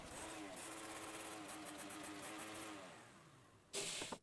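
A Toyota Camry V6 engine cranks and catches, then runs on in a steady mid-pitched drone that slowly fades, ending with a brief loud burst, heard fairly close with no talk over it.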